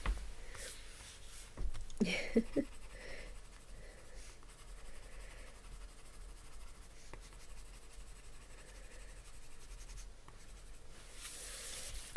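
Polychromos colored pencil scratching softly across drawing paper, quiet continuous strokes with a few brief louder scribbles near the start, faint and close.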